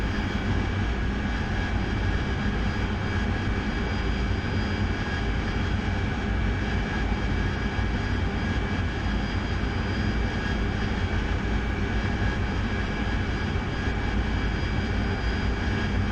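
Steady, loud jet engine roar from an aircraft in the DCS World flight simulator, flying a carrier approach near a ship on a night strike mission; the drone holds unbroken and constant throughout, with no voices.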